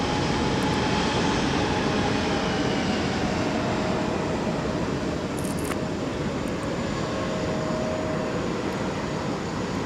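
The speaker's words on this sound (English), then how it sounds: "With the A321neo, no less, for Delta." Delta Airbus A321neo jet airliner at Minneapolis–St. Paul Airport gives a steady, loud broadband engine roar that holds for the whole stretch, with a faint thin whine running underneath.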